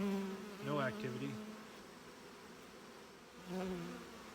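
Honey bees buzzing at an open beehive during a September brood nest inspection, a soft steady hum with a few closer louder buzzes rising and fading.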